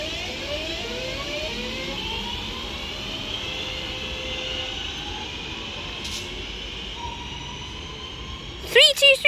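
Northern Class 323 electric train, unit 323243, departing on the branch near Levenshulme, its traction motors whining in steady rising and falling tones as it pulls away, with a few sharp clunks near the end.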